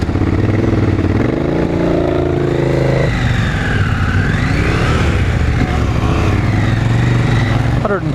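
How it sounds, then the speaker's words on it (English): Brand-new KTM 890 Adventure R Rally motorcycle started for the first time, its parallel-twin engine revving loud and close, the pitch climbing and falling in steady sweeps across the whole stretch. "Alright, so first fire up of this bike."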